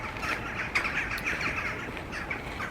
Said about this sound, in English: Those kind of blackbirds and a flock of birds,